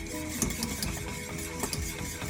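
Lemon tart filling being stirred continuously in a pot on the stove, a steady close scraping and swishing with faint sizzle underneath, no pauses and no voices.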